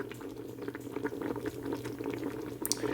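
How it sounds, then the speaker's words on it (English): Sugar-free strawberry jam bubbles at a rolling boil in a pot, giving a continuous close, thick burbling and popping with a low steady hum underneath and no talking. "Does this count as a rolling boil?"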